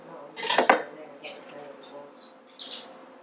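A knife cutting through a freshly baked, still-hot koloucheh cookie, a brief burst of close metallic clinking and scraping against a plate, then quiet, followed by a second short clatter, with a voice speaking nearby.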